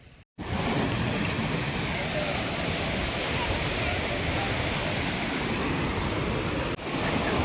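Surf breaks on the shore at Madhavpur beach, a loud continuous roar of waves and wind that begins after a brief cut and runs steadily throughout.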